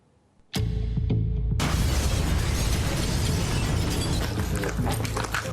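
A natural gas explosion in an apartment building: a sudden loud blast erupts after near silence, followed by a sustained roaring rumble and crackling debris that keeps going at high volume.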